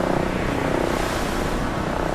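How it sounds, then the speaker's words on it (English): Aeroplanes fly overhead, a steady broad engine and propeller drone filling the air with a continuous rumbling roar, loud and unbroken throughout with no voices. "Airships and aeroplanes scouted overhead, looking for the telltale signs of submarines lying in wait."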